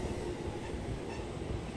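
A train at Tsuruga Station gives a quiet, continuous rumble of rolling rail wheels, heard alone at a moderate distance.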